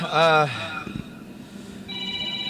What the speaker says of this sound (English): oh geez, phone's ringing